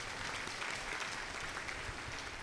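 Steady, dense applause from a large crowd welcoming priests and sisters at an open-air pilgrimage Holy Mass at a national Marian shrine, filling the whole stretch evenly with no talk over it.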